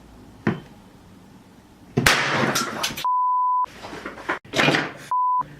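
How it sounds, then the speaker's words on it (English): A steady pure test tone plays from a phone through a homemade amplifier circuit into a loudspeaker, sounding in two clean bursts, one long and one short, between louder handling clatter and bangs. "I have a speaker here which is connected to my amplifier circuit"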